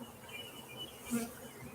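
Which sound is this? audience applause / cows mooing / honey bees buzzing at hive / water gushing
honey bees buzzing at hive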